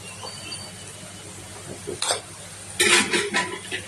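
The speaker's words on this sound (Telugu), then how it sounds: "మళ్ళీ తిప్పుకోవాలి" A spoon stirs ginger-garlic paste into a pan of Andhra-style fish curry (chepala pulusu), with soft scraping and a few sharper clinks and scrapes against the pan near the end.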